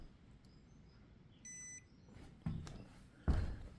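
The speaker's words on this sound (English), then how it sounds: "Get my little tester here." A small electrical voltage tester, used while checking a loft outlet for power, gives one short steady electronic beep, followed by a couple of dull handling thumps in a quiet room.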